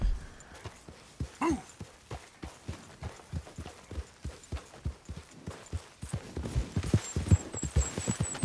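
Horse hooves clip-clop steadily in Red Dead Redemption 2, a rhythmic run of distinct hoof strikes at close range that quickens and grows louder toward the end, with a brief breathy snort early on.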